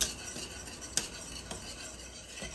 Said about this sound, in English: I'm going to whisk this in the cream of wheat slowly, whisking it continuously